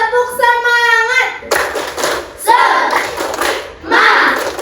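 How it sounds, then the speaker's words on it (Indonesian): A class of children does the 'tepuk semangat' clap in a classroom: a short sung chant of voices gives way to several seconds of loud, rhythmic group clapping in bursts. "Tepuk semangat."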